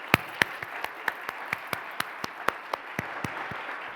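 Scattered, evenly spaced hand claps from a small audience at an awards ceremony, each clap crisp and distinct rather than merging into a dense roar, continuing steadily and fairly close.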